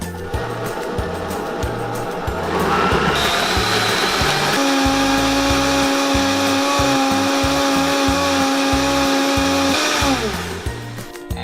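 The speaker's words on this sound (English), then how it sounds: "now that we have this in our blender, we can go ahead and" A blender purees butternut squash soup, whirring loudly and steadily for several seconds with a high motor whine, then spins down and stops.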